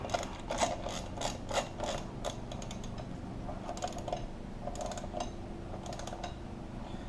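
A hand ratchet tightens the lug nuts on a car wheel during a flat tire change. Quiet, close bursts of rapid clicking come in several short runs separated by brief pauses.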